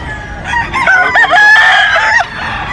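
A fighting rooster crows loudly and close by, a long strained cock-a-doodle-doo, with hens clucking around it, at a poultry market in Bocaue.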